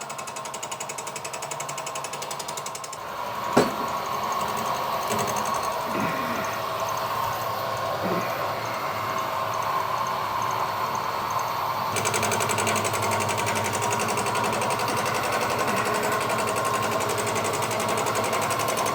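A milling cutter takes a light, faster finishing cut on an inlet manifold, giving a continuous, close mechanical whirr with a rapid chattering texture, one sharp knock near the start and a slight rise in level later.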